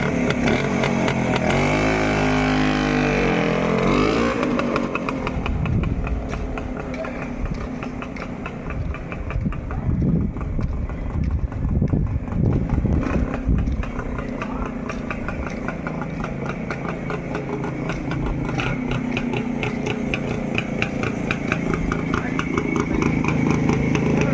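A 1983 Rajdoot motorcycle engine runs steadily and close for the whole stretch, a continuous loud idling chug with slight revving swells and people talking over it.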